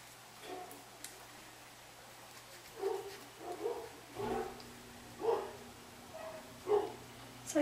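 Dogs bark in short bursts and separate barks, spread out across the clip, at a moderate distance over a low steady hum.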